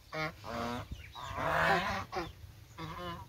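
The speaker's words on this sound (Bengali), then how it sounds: "এখানে কিন্তু 30টির উপরে হাঁস কিন্তু অলরেডি আছে।" Farm geese honk in a run of loud, close, overlapping calls, several birds answering one another in quick bursts with short pauses between.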